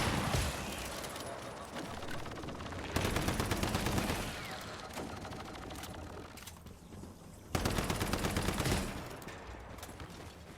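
Rapid gunfire from the video game Once Human crackles in dense, continuous bursts, with louder volleys surging around the third and seventh-to-eighth seconds.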